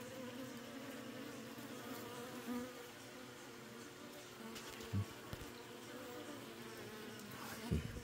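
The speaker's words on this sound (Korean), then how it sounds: "토종벌들을 보고 있습니다." Korean native honeybees buzz around hives on a mountain, a continuous close swarm drone with a few louder passes and knocks, and no talking.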